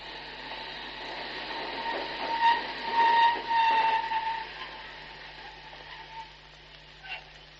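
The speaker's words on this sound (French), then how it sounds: "Tenez, écoutez, le métro arrive." Underground metro train arriving, a rumbling, rattling roar with a squealing tone that builds to a peak midway and then fades, with a brief screech near the end.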